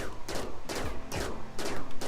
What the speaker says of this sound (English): go ahead and shoot this turkey